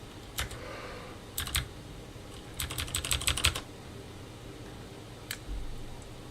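Close-up typing on a computer keyboard comes in quick clusters of sharp clicks separated by brief pauses, with a low steady background hum.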